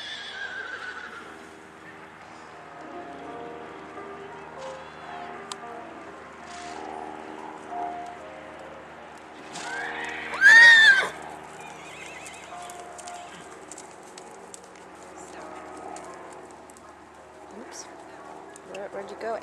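Horses walk in a riding arena with soft hoof clops and one brief whinny partway through, set against faint birdsong and distant aircraft, while people talk intermittently.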